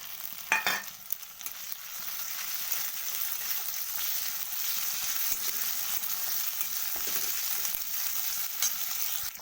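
Ginger garlic paste drops into hot oil in a pan for aloo chop, a sharp burst of sizzling at first that settles into a steady, fairly close frying hiss with light stirring.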